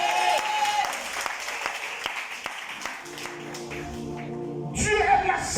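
Church congregation applauding during a worship service, a dense burst of clapping that fades after a few seconds into a sustained organ-like tone with voices cheering near the end.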